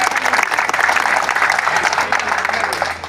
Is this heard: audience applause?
yes